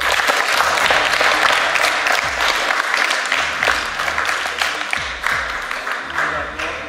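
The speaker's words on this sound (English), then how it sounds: "Give a big round of applause for NBA point guard," A packed crowd at the 2015 All-Star MVP basketball camp claps for NBA point guard Brandon Knight, a loud, dense, continuous applause that holds steady for several seconds and eases slightly toward the end.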